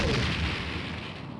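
A torpedo strikes a Romulan warbird in the space combat game Star Trek: A Final Unity, a loud, sustained rumbling explosion that fills the brief moment and slowly fades.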